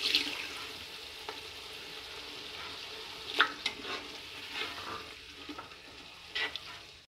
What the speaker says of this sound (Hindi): इसकी भुनाई करेंगे